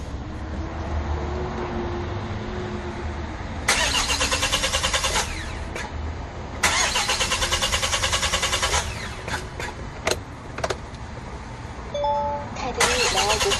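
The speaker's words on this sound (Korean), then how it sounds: "시동을 한번 걸어보죠." A 2020 Kia Bongo 3 truck engine with severe misfire cranks repeatedly without catching, several whirring starter bursts of a few seconds each separated by pauses, close and loud, with people talking in Korean nearby.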